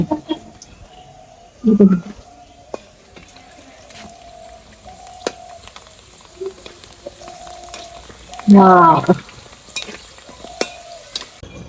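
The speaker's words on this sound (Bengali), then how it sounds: "গাইস এখন আমি ফুচকা ভেজে নিব" Fuchka shells deep-fry in hot oil, giving a quiet steady sizzle with sparse clicks and two louder bursts of bubbling and tool clatter as pieces are handled; no talking.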